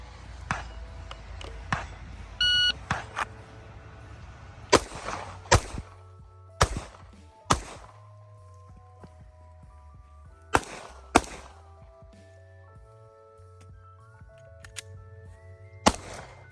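Gunshots ring out during a T.Rex Arms Scrambler shooting drill in Southern California rain, sharp loud cracks in irregular bursts and pairs separated by quieter pauses.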